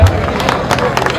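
Audience applause and crowd noise at a dance show by Mbeya dancers in a hall, a steady wash of clapping with brief louder bursts, heard under faint talk.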